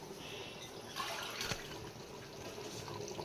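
Water poured from a tumbler into a cooking pot while making biryani gives a steady, close splashing and trickling stream with a brief louder gush in the middle, no talking.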